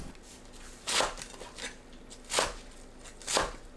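Knife chopping halved perilla leaves into 1.5 cm strips on a cutting board: three sharp, crisp thuds with a few softer taps between, close and fairly quiet, no talking.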